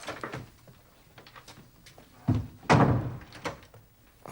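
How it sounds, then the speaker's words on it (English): An indoor door pushed shut, giving a couple of dull, close thunks with a louder second knock, amid quiet room sounds in a period drama setting. "And shut the door."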